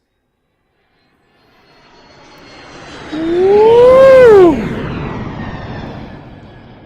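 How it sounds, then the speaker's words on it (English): A jet aircraft sound effect swells from silence into a loud, rising engine whine, peaks with a sharp pitch sweep, then eases into a sustained roar as a voice gives a brief cheer. "We're going to fire up this jet right now."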